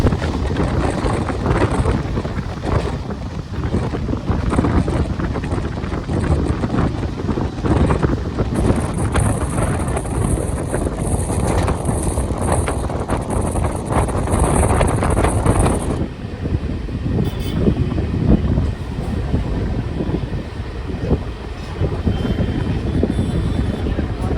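A MEMU local train on the Santragachi to Jhargram line runs after pulling out of a station, a loud continuous rumble and rattle with heavy wind buffeting and a high steady whine for several seconds midway, with no talking.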